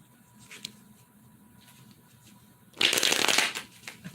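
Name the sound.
shuffling a tarot card deck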